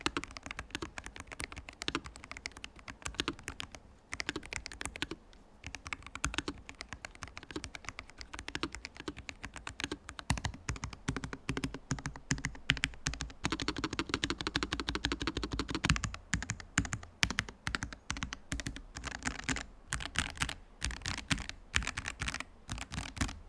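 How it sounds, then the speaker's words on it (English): Fast, continuous typing on a NuPhy Air60 HE low-profile magnetic keyboard, soft muted clacks in quick bursts with brief pauses, close and fairly quiet. "here's a quick sound test to give you a better idea of how this keyboard sounds"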